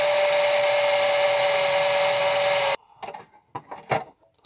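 A loud, high-pitched whine of a small drill boring into a graphics card circuit board, running steadily for a few seconds, then stopping, followed by a few faint clicks and handling noises.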